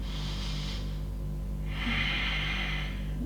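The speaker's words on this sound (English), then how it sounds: "2 more breaths, inhale." Slow, deep breathing while holding a yoga pose, heard as two soft airy breaths, a short one early and a longer one later, faint over a low steady hum.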